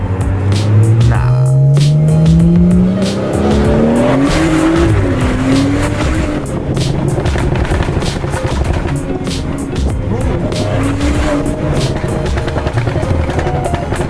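A BMW F30 340i with a Bootmod3 Stage 2 tune revs up with a loud, rising engine note, then shifts into crackling, popping exhaust burble with tire squeal, and people talk over it.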